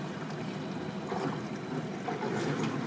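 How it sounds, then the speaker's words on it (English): Steady gurgling and bubbling of trapped air in a car's cooling system after overheating, with faint watery trickles, continuous and close, no voices. "There is some bubbling and noise I can hear, so that's a good sign."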